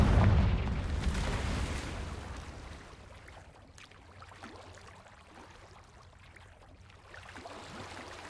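A Confringo fire spell exploding in Hogwarts Legacy, a loud booming burst at the start that fades into a rumbling, crackling tail, with a swell of ambient noise near the end.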